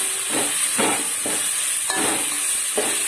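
Herbs sautéing in a pan for Tirunelveli marundhu soru, with a steady loud sizzle and hiss under several rhythmic stirring strokes, close up and without talk.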